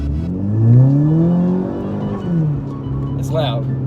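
A Mk6 Golf GTI with an aftermarket exhaust accelerates hard, its engine note swelling and sweeping upward, then easing off, close and loud with a brief sharp chirp near the end.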